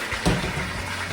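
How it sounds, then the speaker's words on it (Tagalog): A cup of water poured into beef pata humba simmering with ginger, a short soft splash that rises and then fades into a quiet kitchen hum. "lagyan natin siya ng isang tasang tubig."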